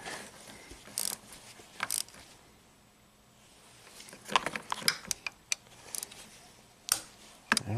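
Socket wrench working on a bolt in the engine bay of a Volvo XC70 with a no-start fault, sharp clicking ratchet bursts and metallic clinks at close range in short irregular spurts.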